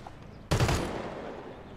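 A single sharp gunshot from Crossfire X bursts out loud and close after a quiet moment, then rings down into a fading echo.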